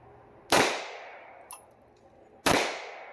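Two loud, sharp shots from a Rock Island STK 100 pistol at a shooting range, about two seconds apart, each with a ringing decay, and a faint metallic clink between them.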